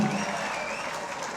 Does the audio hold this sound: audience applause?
yes